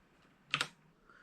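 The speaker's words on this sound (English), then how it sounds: "the keyboard is really great to type on" A couple of quick keystrokes clack on the keyboard of a WYSE WY-30 terminal, close and crisp against a quiet background.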